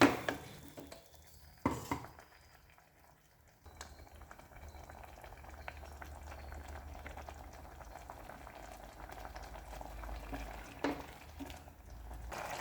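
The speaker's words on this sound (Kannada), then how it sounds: "ಇವಾಗ ರುಬ್ಬಿರೋಂಥ ಖಾರ ಹಾಕೋಣ. ಇದು ಖಾರ ಚೆನ್ನಾಗಿ ಕುದೀಲಿ." Ground spice paste bubbles and sizzles in a tempering of onions in a pan, a soft, steady boil with occasional clinks of a utensil against the pot and no talking.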